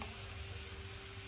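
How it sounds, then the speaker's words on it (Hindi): Vegetables frying in a pan for veg cutlets, making a steady, dense sizzle with a low hum underneath that runs without a break through the short stretch. No voices. "अच्छी तरह भून लेंगे"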